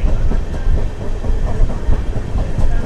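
Passenger train running along the line between Tirupati and Coimbatore, a continuous loud rolling rumble with steady clickety-clack wheel beats over the rails, heard up close from on board with no voices.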